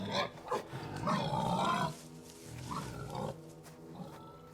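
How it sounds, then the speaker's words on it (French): Wild boar grunting in the video game The Quarry, a few rough, low grunts close up, the loudest burst in the first two seconds and weaker ones after. "Plus un sanglier, ça, non?"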